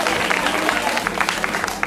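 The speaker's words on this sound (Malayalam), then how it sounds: "ഒന്നുകൂടെ കയ്യടി" An audience at an engineering school event bursts into a short round of clapping, loud and close, mixed with a few voices.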